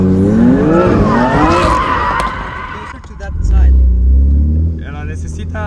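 A BMW M4 drifts with its tires skidding, the engine roar and tire scrub building loudly after a stretch of people talking.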